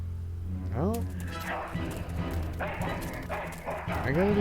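A cartoon dog in a puzzle video game gives short yelping barks and whimpers, loud and close, mixed with game sounds and someone talking over it.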